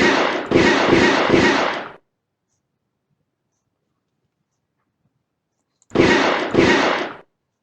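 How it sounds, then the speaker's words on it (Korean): Gunshot sound effects from a simple eagle-hunting game play as clean, loud bursts: three rapid shots, a long silence, then two more shots in quick succession. "누를 때마다 총소리가 나고 남은 총알 수도 줄어들어요."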